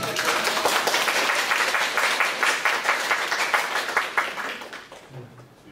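Applause from an audience at a health lecture, many hands clapping in a steady dense patter that swells, holds, then thins out and fades toward the end.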